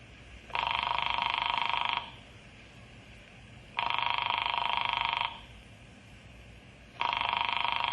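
A telephone in a radio drama rings in three long electronic bursts with even pauses between them. The ringing is clear and moderately close over a faint hiss, with no talking.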